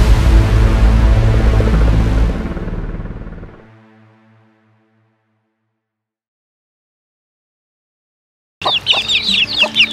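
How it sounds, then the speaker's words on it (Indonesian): Chickens cluck in a busy group as they forage in the rain, first loud and close, then fading to silence before clucking starts up again near the end. "Dan di sini rombongan ayam sibuk cari makan."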